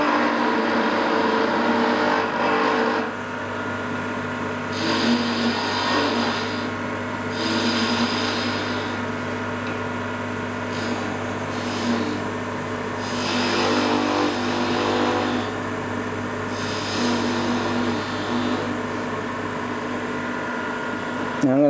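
Wood lathe turning a wooden cooking spatula, a steady whirring hum with tonal vibration and recurring bursts of scraping cut noise from the tool on the wood, continuous for the whole stretch.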